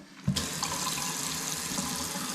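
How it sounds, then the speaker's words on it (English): Hot water tap opened on a Furrion on-demand water heater, a steady close rush of running water that starts abruptly after a brief silence and keeps flowing evenly. "now we're going to turn the hot water on here"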